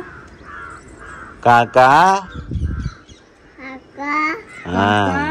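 A young girl imitates a crow's caw, giving several short loud "kaa" calls in a row, with someone speaking between them.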